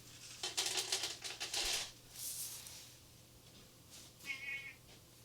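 Cats meow while being fed in a studio, several short, fairly faint cries in quick succession followed by a later higher meow, with quiet rustling between and no voices.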